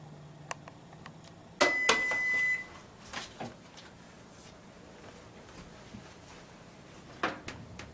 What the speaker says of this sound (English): the buzzers rang, the first pan is baked